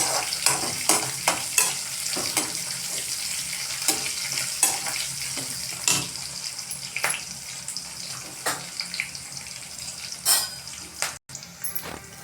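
Byadagi chillies frying in hot oil in a pan for dal palak, a close crackling sizzle punctuated by frequent scraping stirs of a spoon against the pan, with no talk.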